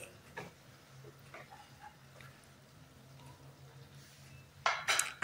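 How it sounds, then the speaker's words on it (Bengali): Spiced masala stirred in a pan for a vegetarian matar paneer cauliflower curry after the lid comes off, with faint scraping and scattered light metal clinks, then a brief louder clatter of utensil against pan near the end. "আমি ঢাকাটা তুলে আবারও একটু নাড়াচাড়া করে নিচ্ছি"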